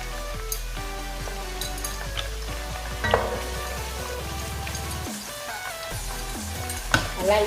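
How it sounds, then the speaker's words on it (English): Onions sautéing in oil for Nigerian ayamase (designer) stew, crackling steadily while a spoon stirs and clinks against the pot, close and clear. "So it's time for us to put our onions. Give it a good stir."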